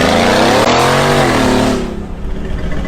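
A Mercedes G500 4x4 squared with its roof cut off revs its engine loudly up close, a rising and falling harmonic growl that fades out toward the end.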